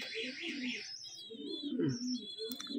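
Pet pigeons, a gift pair, coo and chirp close by in short overlapping calls, with a few higher tweets and a brief sharp knock near the end.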